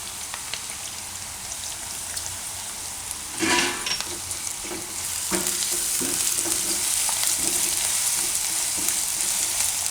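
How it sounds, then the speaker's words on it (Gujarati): Onions and ginger frying in oil in a pan for a Gujarati soya chunk and potato curry, a dense steady sizzle that grows louder midway, with a few scattered clinks of a spoon against the pan, close, no talking. "આમાં આપણે હવે આદું નાખી દઈશું"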